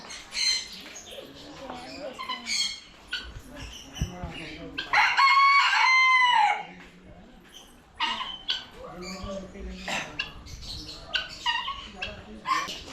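A Polish cap rooster crows once, loud and drawn out, amid scattered bird squawks and background chatter at the Big Foot Museum in Loutulim, Goa.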